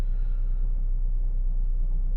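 A Ford car fitted with welded-on glass pack mufflers sits idling, giving a continuous deep, even rumble at moderate level with no talking over it.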